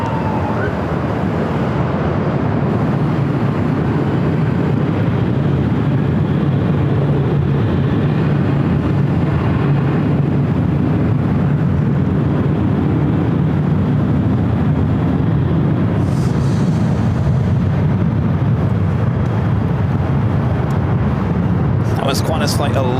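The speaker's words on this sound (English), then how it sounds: "Moving the Qantas A380 Super out to the west." A Qantas A380 taxis at LAX airport as a continuous low engine rumble and roar, steady and moderately distant, with faint higher whines near the end.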